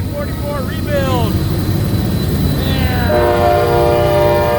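A grain train rolls past with a deep rumble while its horn sounds in long blasts that waver and bend in pitch as it goes by, loud and close throughout.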